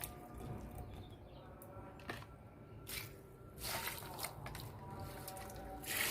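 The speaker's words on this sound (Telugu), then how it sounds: "వీటికి కూడా ఈ నీళ్ళు పోసేస్తున్నాయి వాటర్." Water poured onto potted plants in a sunny rooftop garden, faint soft splashing and squishy trickles in uneven bursts against quiet background hiss.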